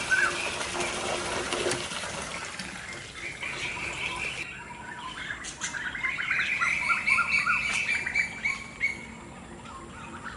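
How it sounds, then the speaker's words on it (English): Many birds chirp and tweet in surrounding trees outdoors, a dense layer of calls over running water gushing from a pipe, fairly close and continuous throughout. "A lot of birds around."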